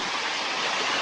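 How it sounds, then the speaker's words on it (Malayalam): Water gushes steadily into a small newly built backyard pond, a dense, constant rushing wash like a stream or small waterfall, close and unbroken with no talk. "വെള്ളം അടിച്ചു കൊടുക്കുന്നു"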